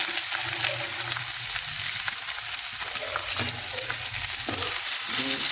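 Curry leaves, cut potato, onion and chili fry in a pan with a constant loud, close sizzle and crackle throughout, plus occasional stirring scrapes, and no voices.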